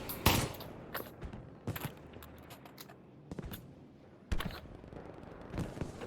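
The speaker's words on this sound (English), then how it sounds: "hearing the sound of empty shells drop on the surface and seeing them as they fall." Gunfire in the VR shooter Pavlov VR: several sharp shots and short bursts spaced through the stretch, with light metallic clatter of spent shell casings dropping onto a hard surface between them.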